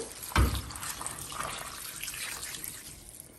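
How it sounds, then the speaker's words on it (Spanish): Half a liter of water is poured into a pot of vegetables, with a brief splash at the start followed by a steady, fairly quiet trickle of liquid filling the pot. "le voy a agregar medio litro de agua."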